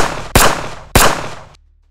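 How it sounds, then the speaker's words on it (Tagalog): Two sharp gunshots, about half a second apart, each a loud crack with a short decaying tail, used as an effect in a Tagalog crime story about robbers in a home. "narinig na lamang niya ang sunod-sunod na putok ng baril"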